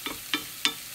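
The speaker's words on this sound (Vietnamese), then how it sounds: "Đó, mình xào sơ vậy là nó chín." Mushrooms stir-frying in a pan, three short bursts of sizzle as the spatula tosses them, evenly spaced and close.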